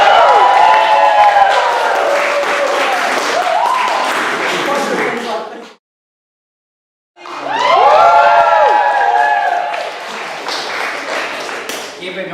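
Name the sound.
studio audience applause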